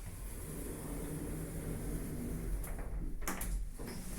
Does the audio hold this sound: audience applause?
no